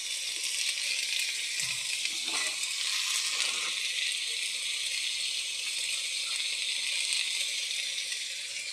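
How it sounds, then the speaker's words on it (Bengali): Flat bean vegetable frying in a pan with tomato, salt and spices makes a loud, steady close sizzle throughout, with a few soft stirring scrapes and no talking. "সবজিটাকে ভালো মতন ভেজে নিতে হবে।"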